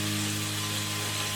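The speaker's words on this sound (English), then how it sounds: "Can you hear the waffle iron, Mike?" A waffle iron sizzles with a steady, close hiss of cooking batter, continuous and even with no talk over it.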